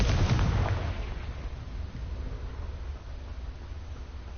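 A Confringo fire spell in Hogwarts Legacy bursts with a sudden booming blast at the start, then a rumbling tail fades over several seconds.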